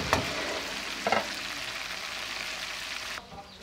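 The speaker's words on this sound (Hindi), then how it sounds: "ये हमारा चिकन फ्राई हो रहा है, प्याज भी हम लाइट गोल्डन ब्राउन कर रहे हैं।" Chicken and onions fry in a pan for chicken fried rice, giving a steady close sizzle marked by a couple of stirring scrapes, then a sudden drop to a quieter hiss near the end.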